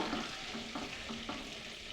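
Whole garam masala, a piece of cinnamon bark, four or five medium cardamom pods and three or four cloves, frying in a pan with steady, soft sizzling and a few light stirring scrapes.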